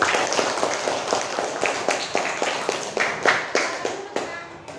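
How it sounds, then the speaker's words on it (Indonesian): Students in a class clap for a group, a close burst of quick, distinct hand claps fading over several seconds. "beri tepuk tangan untuk kelompok 1"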